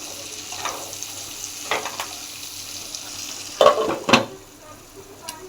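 Frying onions with turmeric are stirred in a pan over a low sizzle, with a few scraping strokes and two louder clattering bursts of the utensil near the end.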